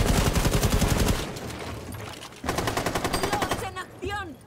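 Bursts of rapid automatic gunfire in Rainbow Six Siege crackle in two volleys with a short pause between, followed by a few scattered shots and faint electronic chirps.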